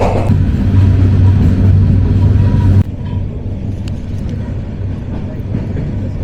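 Mohanganj Express intercity train passing through Tongi railway junction at dawn, a loud steady rumble of wheels on rail that drops abruptly in level partway through, then continues as a lower, even roll.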